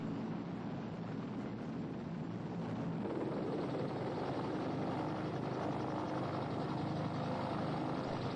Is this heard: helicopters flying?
yes